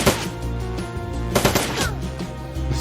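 Rapid automatic turret fire from the Shadowrun: Dragonfall video game, a dense stream of loud gunshots with sharper bursts midway, sounding close and steady throughout with no voice over it.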